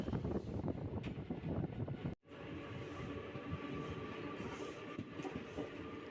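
A train leaving Tuni station gives a steady, loud rumble with rattling wheel noise and wind buffeting. The roar briefly drops out about two seconds in, then resumes, constant and close, with no voices.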